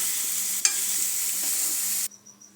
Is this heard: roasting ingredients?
yes